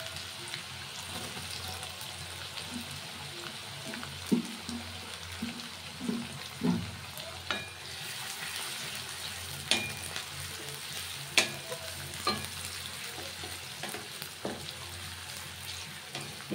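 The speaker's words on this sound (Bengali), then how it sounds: "প্রথমে রসুনটা একটু হালকা করে ভেজে নিতে হবে। এবারে দিয়ে দেবো এর মধ্যে পেঁয়াজ কুচি।" Garlic and chopped onion sizzle and fry in a pan for an egg tadka, a steady hiss with scattered scrapes and knocks of a stirring spoon, no talking.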